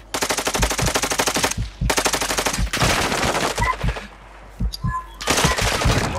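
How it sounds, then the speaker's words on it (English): Rapid automatic gunfire from Call of Duty: Modern Warfare II, loud and close, coming in several sustained bursts separated by short pauses, with a few single shots and faint background sounds between them. "I'm taking effective fire"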